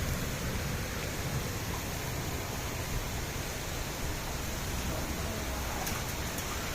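Hail falling together with heavy rain during a severe storm in Milan: a dense, steady hiss of pelting precipitation with a few sharper ticks, loud and continuous throughout.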